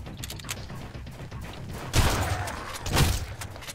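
Shotgun blasts in the survival game Sunkenland, two heavy booming shots about a second apart over a low clattering mechanical background.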